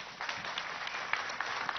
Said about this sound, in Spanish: Yasmel, un aplauso.